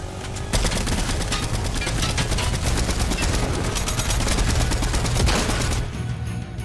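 Rapid automatic gunfire in the Fortnite video game rattles without a break for about five seconds, loud and close, then cuts off abruptly.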